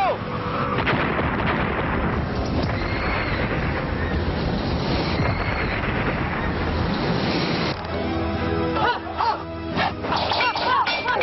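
Cannon fire in a naval battle against the Portuguese, heavy booming blasts and rumbling through a dense, noisy battle din, with shouting voices breaking through toward the end.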